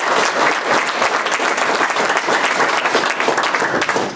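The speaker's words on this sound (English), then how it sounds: "there was a standing ovation for Dan" Sustained applause from a town hall audience on their feet in a standing ovation, dense steady clapping filling the room for several seconds without letting up.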